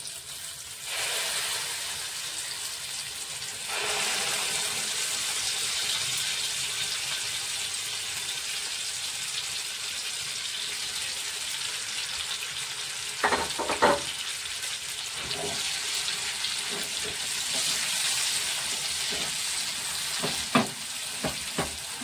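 Chana dal paste frying in hot oil, a continuous crackling sizzle throughout with occasional sharper pops and clinks of stirring in the pan, no talking.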